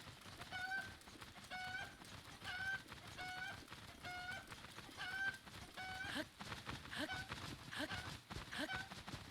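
Cucco chickens in a Zelda game cluck and crow in a steady repeating pattern of short calls, layered over busy game sounds and music with no voices.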